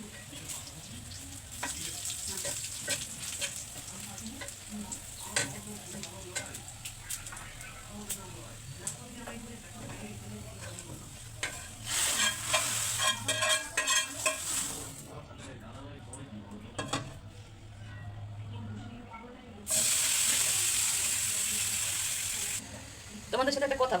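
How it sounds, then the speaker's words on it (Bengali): Oil sizzles in a 20-year-old cooking pot, a steady hiss with bursts of louder crackle and occasional stirring clinks, while someone talks over it throughout. "এই তেল দিলাম, রান্না বসাইলাম।"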